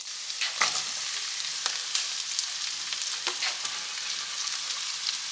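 Cabbage frying in melted butter in a small saucepan, a steady close hiss and sizzle with occasional sharper crackles and stirring scrapes, no voices.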